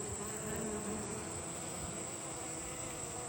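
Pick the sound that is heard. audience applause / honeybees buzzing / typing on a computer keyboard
honeybees buzzing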